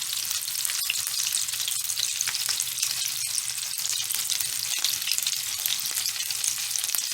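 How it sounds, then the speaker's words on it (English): Meatballs for a slow-cooker recipe browning in a hot pan give off a steady, dense sizzle and crackle, close and continuous throughout with no talking. "They're browning really nice"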